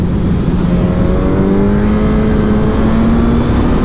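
A Suzuki GSX-S 1000 World Edition motorcycle engine accelerating, loud and close, a steady droning roar with its pitch gradually rising as it pulls through the gear.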